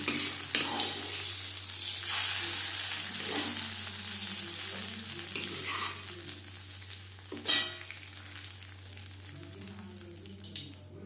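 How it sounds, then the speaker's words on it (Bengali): Hot tempering tipped into broccoli khichuri bursts into a sizzle. It stays as a steady frying crackle with scattered spoon clinks and stirring sounds, and no voices are heard. "এই ফোড়ন বা তরকা দিয়ে দেবো খিচুড়িতে"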